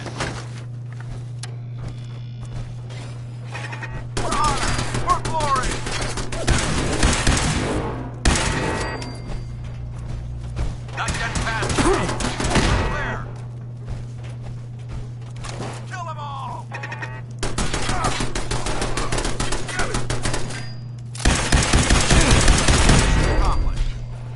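Turret gunfire in Fallout 4 comes in several loud sustained bursts of rapid shots separated by brief pauses, over a steady low hum, with no voices during the bursts.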